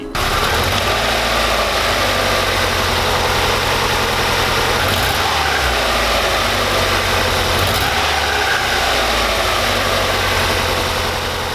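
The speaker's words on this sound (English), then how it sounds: "So on idle, the car is like vibrating like crazy." A Mazda Miata engine with worn motor mounts idles steadily and close up, a continuous low rumble with heavy vibration running throughout without any talk.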